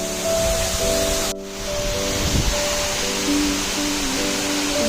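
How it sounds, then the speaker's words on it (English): Kakochang waterfall in Bokakhat, Assam, cascading from a great height, a steady broad rushing roar that continues unbroken, with faint tonal sounds drifting over it. "The water cascaded down from a great height, creating a mesmerizing scene."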